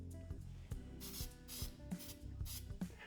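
Short bursts of spray hit a glued wood knot being repaired with CA glue, several quick hisses in an irregular rhythm, close and fairly quiet, with small taps and handling noises between them.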